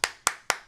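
Three sharp hand claps land in quick, evenly spaced succession, close and crisp.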